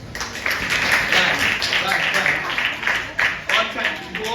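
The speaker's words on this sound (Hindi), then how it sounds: "इसके लिए ताली बजाओ।" Children clapping together in a classroom, a steady burst of many small hands at close range with chatter mixed in.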